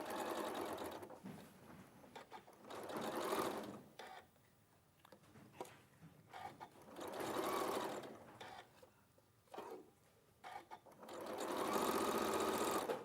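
A sewing machine stitches a quarter-inch seam while fabric pieces are joined, running in several short bursts of rapid, even stitching with quieter gaps between them.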